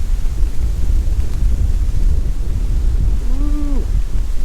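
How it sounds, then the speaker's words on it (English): Strong 37 mph wind gusts across a lakeside trail at Glendalough State Park, Minnesota, roaring as a loud, continuous low buffeting against the microphone, with a brief lowing animal-like call near the end. "Windy!"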